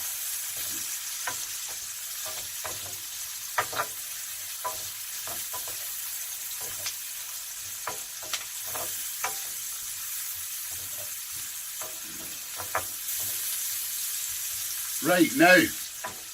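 Onions and orange pepper sizzle and fry steadily in a pan, with stirring clatters now and then while someone talks briefly over the cooking.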